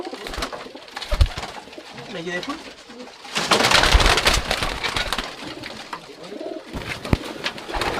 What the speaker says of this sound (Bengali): দেখুন এগুলো সব ওড়ার পায়রা